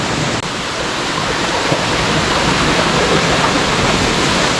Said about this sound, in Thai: เป็น น้ำตกแถวบ้านนะเป็นน้ำตกแบบธรรมชาตินะ